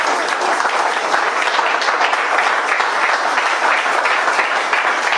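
A church congregation applauds in loud, sustained, dense clapping that fills the space evenly from start to finish.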